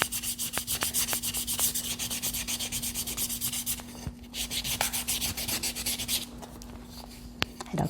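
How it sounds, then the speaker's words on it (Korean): Steady rhythmic rasping of sandpaper rubbed back and forth over wood, close up and continuous, with a brief pause midway. "더 부드러워질 때까지 충분한 사포질을 해주세요."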